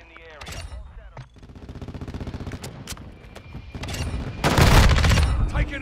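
Heavy gunfire in a Modern Warfare II multiplayer match: repeated automatic bursts and single shots through the middle, then a loud close blast near the end, with game radio voices heard between shots.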